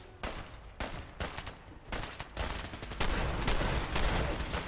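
Bursts of automatic gunfire in the video game Fallout 4, rapid overlapping shots in clustered volleys that grow louder and denser toward the end.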